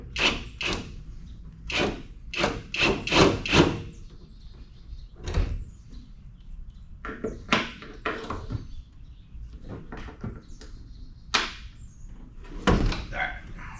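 Someone works a heavy door off a 1971 Firebird, producing irregular clanks, knocks and scraping metal bursts, some sharp and loud, mixed with rustling handling noise in a quiet garage-like space.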